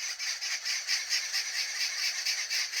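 Many birds call together from a tree directly overhead, a dense, shrill, continuous chorus pulsing rhythmically, loud and close with no talking.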